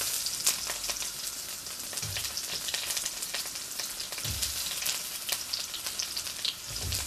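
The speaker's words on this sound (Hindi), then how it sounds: "आइए जल्दी से हम प्याज डाल दें" Onions hitting a hot oiled frying pan for a soya chunks biryani, giving a steady, close crackling sizzle with a few louder spits and stirring clatters throughout, no talking.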